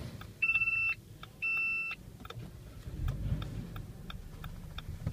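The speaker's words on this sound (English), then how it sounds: "This is the left indicators." Left turn indicators on a Dodge Journey give two clear electronic beeping chimes close by, followed by faint regular ticking over a low cabin rumble.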